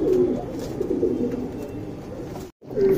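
Young tournament pigeons coo close by in a loft, soft repeated low throaty calls over a busy background, with a brief silent gap before the cooing resumes.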